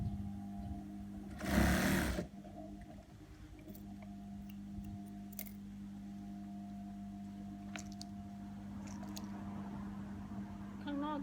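A sewing machine stitches a trouser waistband, a low quiet mechanical hum with a short louder burst of running stitches near the start, while someone talks softly over it.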